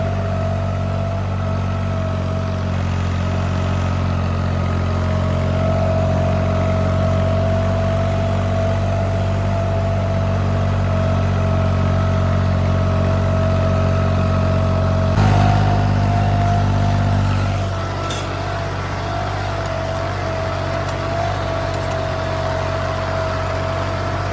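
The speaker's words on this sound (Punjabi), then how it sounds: "ਜਿਵੇਂ ਥੋੜਾ ਟਰੈਕਟਰ ਗਰਮ ਗਰਮ ਕੁਝ ਨਹੀਂ ਹੁੰਦਾ ਹੈ ਉਰੀ ਖੜਾ ਜਦ ਕਾ ਚਲਾ ਰਹੇ ਆ ਨਾ" A New Holland 3600 tractor engine idles steadily and close by, a continuous low rumble that stays even throughout, with a brief bump in loudness partway through and no one speaking.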